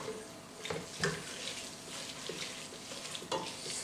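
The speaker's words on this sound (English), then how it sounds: "Add in the butter, Let that melt till it almost all the way." Butter melting in a pot on low heat for tuna macaroni and cheese, stirred with soft scraping and faint sizzling, a few sharper knocks of the utensil against the pot, close and steady without talk.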